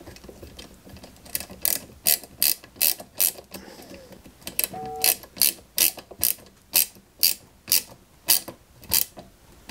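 A screwdriver drives a small type C screw into a 1989 Batmobile 1/8 scale model, giving a steady train of crisp ratcheting clicks in regular bursts, close and fairly quiet, with no talk.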